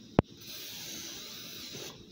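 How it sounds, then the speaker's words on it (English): Cooking oil sprays in one short, sharp burst onto a heated waffle iron. A low, steady hiss follows and fills the rest of the clip. "Spray the bottom and put a little bit on the top."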